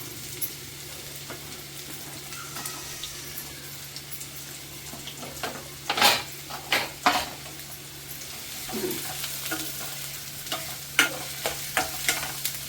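Onion, green chili and garlic fry in a pan for an octopus curry with a low steady sizzle, while a spoon scrapes and clatters against the pan in irregular bursts.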